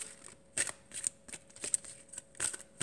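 Amethyst Love Oracle cards being shuffled by hand, giving several quick bursts of riffling and sliding with short pauses between them, close and fairly quiet, with no talking.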